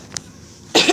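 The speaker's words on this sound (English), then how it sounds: "I'm still recovering from pneumonia, so I apologize for coughing." Someone recovering from pneumonia coughs: a faint early cough, then a loud, close burst of harsh coughing near the end, with no speech.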